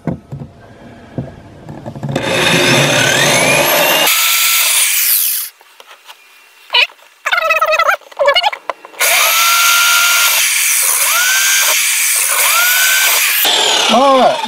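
Power drill boring the corners of a switch cutout in a Casita RV wall, loud whining bursts starting and stopping several times, close by, with brief gaps of quiet between runs.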